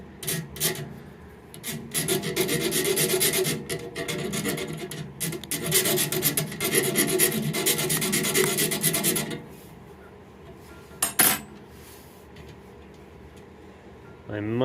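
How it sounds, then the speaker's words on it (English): Metal file rasping across threaded all-thread rod in steady back-and-forth strokes, loud and close, stopping partway before a few faint knocks and clicks. "that's going to take some filing to get that"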